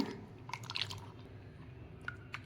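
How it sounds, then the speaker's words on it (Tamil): Wheat flour dosa batter being mixed with water by hand, giving soft, close wet squishing and dripping sounds that carry on steadily at a low level throughout. "இந்த மாதிரி மாவை தண்ணியாக கரைச்சிங்க அப்போ தான் தோசை ரோஸ்ட் மாதிரி நல்லா வரும்"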